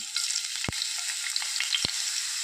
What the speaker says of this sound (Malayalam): ഇപ്പോൾ വെളിച്ചെണ്ണ ചൂടായി വരുമ്പോഴേക്കും നമുക്ക് ഈ ഒരു ചെറിയ പീസ് ഇഞ്ചി എടുത്ത് വെച്ചിട്ടുണ്ടായിരുന്നു അത് ചേർത്ത് കൊടുക്കാം